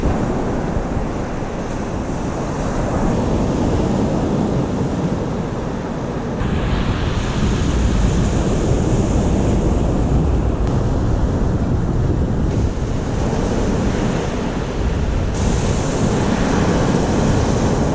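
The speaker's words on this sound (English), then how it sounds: "it's very windy today" Strong wind roars and buffets the microphone while ocean waves crash steadily underneath at Tresaith Beach, Wales, with no talking.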